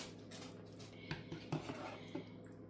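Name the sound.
moving meat and vegetable mixture from big pan to smaller pan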